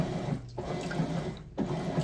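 A top-load Maytag MVWC565FW2 washer agitating with water, giving a steady close sloshing and swishing churn with two brief dips as the agitator reverses direction.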